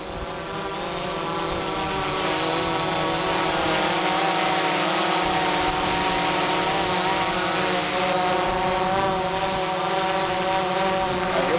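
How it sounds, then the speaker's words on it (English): A DJI Phantom 4 quadcopter drone hovers and flies nearby, tracking its operator outdoors during storm chasing. Its rotors give a steady, loud, high-pitched whine that holds unbroken throughout. "and you'll watch the drone actually track me."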